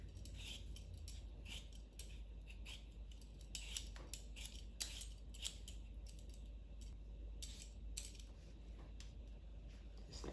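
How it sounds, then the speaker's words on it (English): Potatoes being peeled by hand with a kitchen knife, a steady run of light scraping and snipping strokes close by, with a few sharper clicks, no talk. "If you don't have a peeler, you can use a knife."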